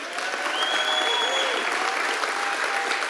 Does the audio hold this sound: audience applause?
yes